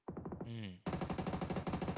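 An AUG rifle fires in PUBG Mobile during an esports league match, sharp rapid bursts of automatic gunfire, loud and close, broken by a brief tonal game sound before the shooting resumes.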